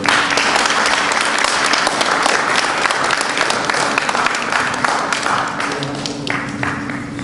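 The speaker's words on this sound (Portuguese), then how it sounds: "Uma salva de palmas para ela, por favor." Loud, sustained clapping from a crowd, dense and continuous, tapering slightly toward the end.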